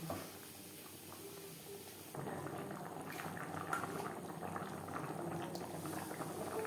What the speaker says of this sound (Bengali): চিকেন সেদ্ধ হওয়া পর্যন্ত অপেক্ষা করব।